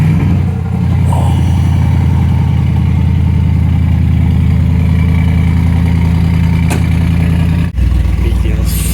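A Mercedes G-Class idles on a Monaco street: a steady, loud, close engine rumble that holds evenly throughout, with a brief dip near the end.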